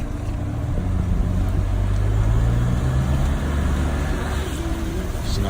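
Steady road noise inside a moving car, with a loud, continuous low engine and tyre rumble and a faint whooshing of passing air, no speech.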